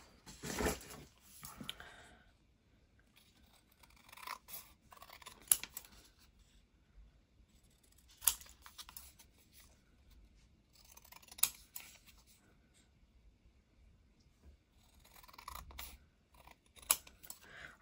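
Scissors snip through cardstock in a series of short, crisp cuts separated by brief pauses, close and fairly quiet with no talking.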